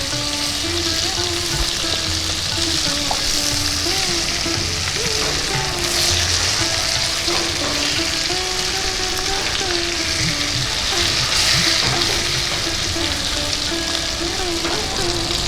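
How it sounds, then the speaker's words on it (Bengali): Pomfret fish frying in a pan, a loud, steady, dense sizzle with occasional stirring and turning sounds running throughout, close up and alone. "মাছগুলো আমি উল্টে পাল্টে ভেজে নিচ্ছি।"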